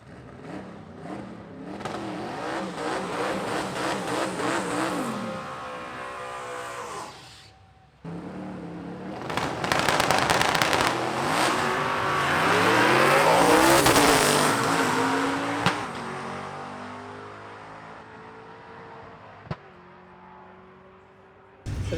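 Loud, sustained revving from a 1985 Mazda RX7 fitted with a 427 LS single-turbo engine, rising and falling through repeated pulls with a brief cut near the middle, heard up close at an LS car show.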